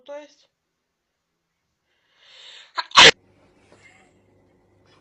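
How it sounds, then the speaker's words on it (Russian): A woman gives one sharp, loud sneeze after tickling her nose with a stick, preceded by a short breathy intake, with brief talk before it and faint rustling afterward. "Чихнула."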